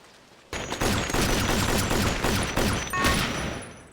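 Rapid gunfire from a scene in the NCIS TV episode 'Marine Down', a dense burst of overlapping shots starting abruptly and continuing loudly and steadily for several seconds, with no talking.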